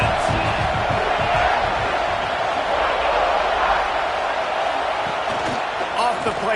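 Roaring football stadium crowd bearing down on the opposing offense, a loud, sustained wall of noise with whoops and shouts rising through it and a commentator's voice faintly underneath.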